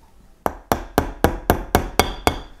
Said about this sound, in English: So then with the driver vertically, and give it some soft taps.